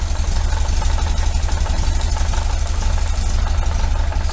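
A 1973 VW Super Beetle air-cooled engine with a Dellorto FRD 34B carburetor idles loudly and steadily nearby, with a throbbing low rhythm and a faint mechanical rattle.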